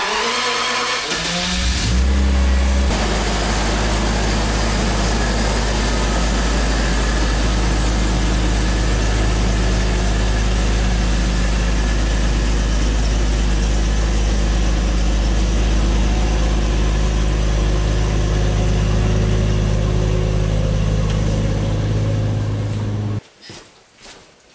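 A car engine runs steadily and loudly for over twenty seconds as the vehicle is driven out, revving slightly at the start, then cuts off abruptly near the end.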